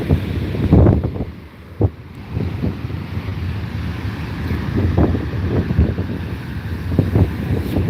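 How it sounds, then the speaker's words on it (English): Ocean waves pound steadily on a sandy beach, a loud continuous roar of surf with repeated crashing surges, heavily buffeted by wind noise on the microphone and no voices. "The waves are pounding on the sand"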